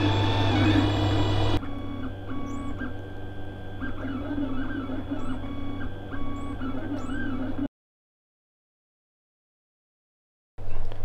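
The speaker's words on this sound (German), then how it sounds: "Das ist ein Druck, der nur 18 Minuten dauert." A 3D printer runs a short test print with Amazon Basics filament, its stepper motors whining in shifting tones over a steady fan hum. It then cuts out into silence for a few seconds before starting again.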